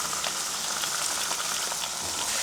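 Cumberland sausages and tomatoes frying on a Blackstone griddle: a steady, dense sizzle and hiss of fat spitting on the hot flat-top, continuous and fairly close, with no talk.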